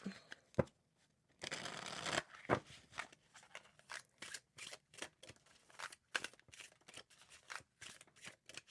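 Tarot cards shuffled close by in quiet bursts of riffling and soft slaps, with a longer flurry near the middle and short taps and pauses between.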